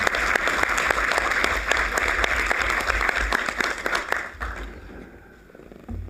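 Audience applause at a live board of trustees meeting, a dense steady clapping from a crowd that runs for about four seconds before thinning out and fading toward quiet.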